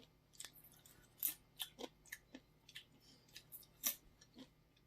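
Crunchy bites of homemade cinnamon sugar pumpkin seeds, still warm, give a scatter of sharp, close crackling crunches at an irregular chewing rhythm over a quiet background, with no talking.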